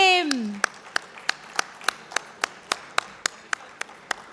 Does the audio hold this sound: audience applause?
yes